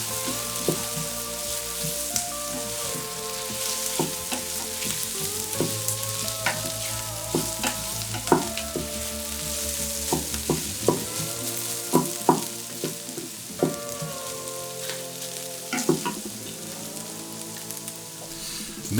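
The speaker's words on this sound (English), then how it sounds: "Once the oil is hot, add the onions and saute them just until they begin to soften." Onions sautéing in olive oil inside an Instant Pot: a continuous close sizzle with frequent sharp clicks and taps of a utensil against the pot, steady and fairly loud, no talking.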